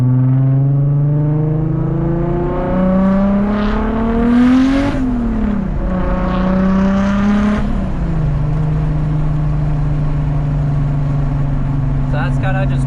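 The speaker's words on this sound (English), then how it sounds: "But this is like it ramps up and then just skyrockets. Bigger turbo with the increased boost." A Toyota JZX100 Chaser fitted with a bigger turbo and raised boost accelerates hard, its engine note climbing steadily, easing off, then rising again, loud and close from inside the car.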